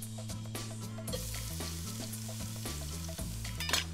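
Chopped onion lands in hot oil in a soup pot and fries with a loud, steady sizzle, mixed with stirring scrapes, under background music.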